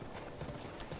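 Horse hooves clop steadily at a gallop as the player rides through The Legend of Zelda: Breath of the Wild, rapid rhythmic hoofbeats close and clear.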